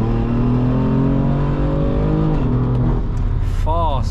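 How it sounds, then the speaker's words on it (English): A 3-litre twin-turbocharged inline six of a 580 bhp BMW M3 drones loud and steady from inside the car on a night drive, with the pitch climbing and shifting as it accelerates. "we've got a 3 litre twin turbocharged inline 6-cylinder engine, 580 horsepower"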